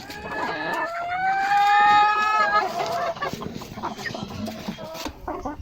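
A mestizo labuyo, a Philippine wild junglefowl kept for breeding, clucks and calls in a close, loud run of sharp, tonal notes that trail off into scattered softer sounds.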